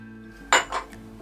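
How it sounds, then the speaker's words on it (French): Scone dough of flour, butter, baking powder and salt is stirred in a bowl, giving a close clatter of a utensil against the bowl in two or three quick knocks over a quiet background. "Je continue à mélanger."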